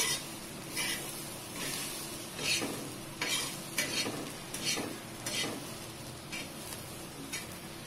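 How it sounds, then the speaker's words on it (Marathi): Sprouted moong usal is stirred and fried on a griddle, with a soft continuous sizzle and a series of scraping spatula strokes at an irregular rhythm, close and fairly quiet, no talking. "10 मिनिटापासून मी तिला अशी तव्यावरती परतते"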